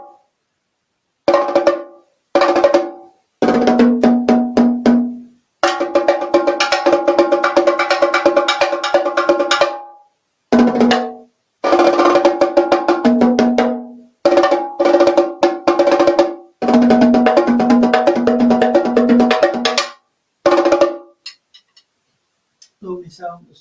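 Small drums struck with sticks in quick rhythmic bursts of rapid hits, separated by short pauses; the bright, ringing taps sound close.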